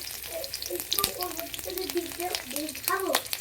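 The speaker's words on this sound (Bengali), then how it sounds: "প্রথমে একটু রসুন কুচি এর মধ্যে তেলের মধ্যে দিয়ে দেবো" Chopped garlic sizzles in hot oil in a home kitchen pan, a soft continuous crackle with occasional stirring, while a voice talks over it.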